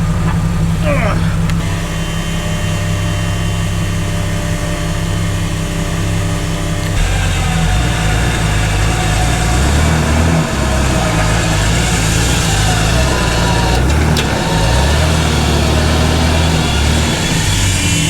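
A stuck Jeep Cherokee Laredo's engine drones loudly and steadily with low rumbling harmonics, surging as it revs partway through.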